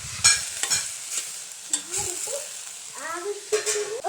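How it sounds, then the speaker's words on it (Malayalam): Jackfruit seeds and browned onions stir-fried in a pan, with repeated close scraping and clacking strokes of a spoon over a steady sizzle. "സവാള നല്ലതായിട്ട് മൂത്തതിന് ശേഷം നമ്മുടെ അരിഞ്ഞു വെച്ചേക്കുന്ന ചക്കക്കുരു ഇട്ട് കൊടുക്കാവേ."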